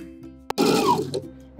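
A sewing machine backstitches an edge stitch on a cardigan made from a thrifted sweater, running in a short close burst of about half a second between a quiet hum and a click.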